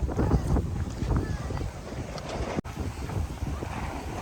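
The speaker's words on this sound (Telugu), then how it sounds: "చూడండి, విపరీతమైన గాలి పెడుతుంది." Strong wind gusts over a hillside path of steps on the walking pilgrimage route from Venkatapuram to Srisailam, a loud continuous rumbling buffet close on the microphone with one brief dropout midway.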